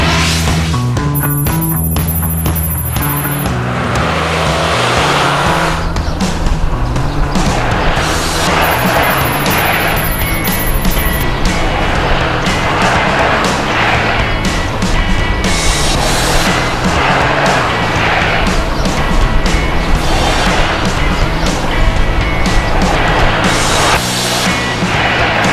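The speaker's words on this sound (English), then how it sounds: "The car will be run through 3 stations and will also run laps around the track." A Veento car runs a slalom on a test track, tires squealing and scrubbing in repeated bursts over a continuous loud engine and road roar.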